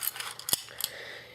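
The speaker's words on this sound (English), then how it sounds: "I cut all the plants with this scissors" Scissors used to cut plant stems for a school biology project give a few sharp metallic snips and clicks close by, with no talking.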